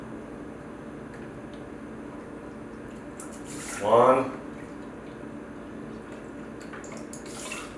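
Chicken broth is poured into rice in a cooking pot for surf and turf fried rice, a brief splashing gush of about a second with rising pitch, standing out from a quiet kitchen background.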